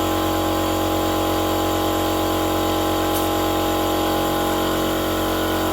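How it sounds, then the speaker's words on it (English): An air compressor runs loud and close in a workshop where an engine block is being checked, producing a dense, constant mechanical drone with a steady low hum and no pauses. "time to crank up the air compressor"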